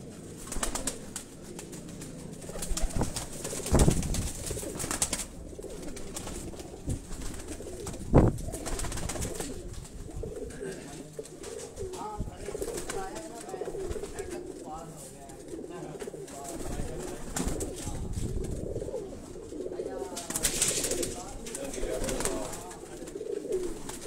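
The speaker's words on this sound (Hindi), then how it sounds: "ये भी परवाजी कबूतर हैं जी, उस्ताद शबीर शाह लेबल वाले जी।" Parwazi flying pigeons coo repeatedly at a loft in Gulshan-e-Maymar, Karachi, soft throaty calls recurring throughout while someone talks over them nearby.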